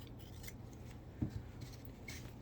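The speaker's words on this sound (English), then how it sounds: "just cut it off so you have a 1/4 inch" Scissors snip through fabric while trimming quilt binding to a quarter-inch seam, giving a few soft, close cuts over a quiet room background.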